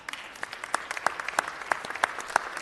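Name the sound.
applause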